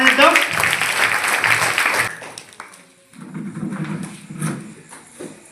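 Audience applause welcoming a speaker at a school farewell gathering fills the first two seconds with dense clapping, then fades as a voice speaks over a quieter room.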